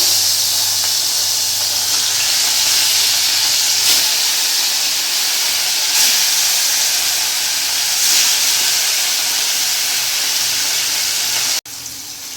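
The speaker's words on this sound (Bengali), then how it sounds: "এখানে আমার তেল গরম হয়ে গেছে। এখন আমি মাছগুলো ছেড়ে দেবো।" Pieces of katla fish fry in hot mustard oil in a kadai, giving a steady loud hiss and sizzle with no talking. A brief drop in level comes near the end.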